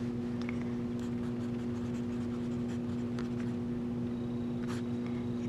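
A math equation written out by hand, with soft, intermittent scratching strokes of writing over a steady low electrical hum, no voices.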